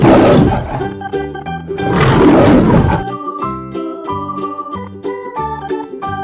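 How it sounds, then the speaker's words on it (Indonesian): A lion gives two long, loud, rasping roars in the first half, followed by a bright repeating musical backing of plinking notes with no talking. "Ini suara singa."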